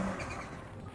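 Liam Doran's 600bhp X-Games-winning rallycross Citroen DS3 roars steadily, a loud, dense engine note sustained close by for a brief moment with no pause.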